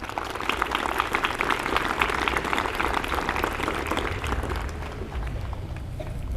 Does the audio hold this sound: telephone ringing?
no